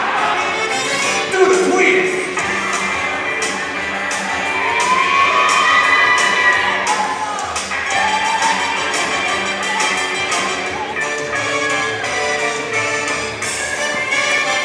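High school football game halftime show in which students perform a musical for the crowd, with distant crowd noise, cheering and children shouting blending with music and voices across the stands, steady and moderately loud.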